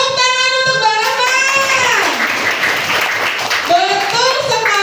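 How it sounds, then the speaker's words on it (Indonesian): Classroom applause for a student, Mbak Rama, during an Indonesian school lesson: a burst of dense clapping fills the middle of the clip, with children's high voices calling out in unison before and after it. "Tepuk tangan untuk Mbak Rama."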